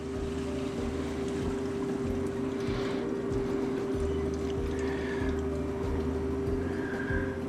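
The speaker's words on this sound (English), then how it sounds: "So I turned on the well pump. We're gonna hear it go in the background for just a minute or so." A farm well pump runs steadily during a plumbing repair, giving a continuous low mechanical hum with a strong tonal drone, a constant level throughout, and faint water noise on top.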